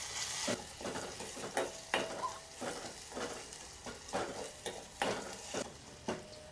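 Ginger garlic paste sautéing in oil, a soft sizzle broken by repeated stirring scrapes and light clinks of a spoon against the pan, close and fairly quiet, with no voices.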